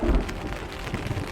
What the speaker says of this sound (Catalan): Una bona tempesta, aquí enmig del salar de l'Antofalla.